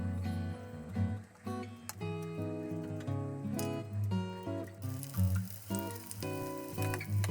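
Steady sizzling of breadcrumb-coated cutlets frying in an oiled pan, partly covered by background music.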